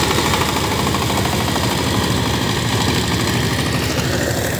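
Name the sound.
power tiller engine ploughing muddy field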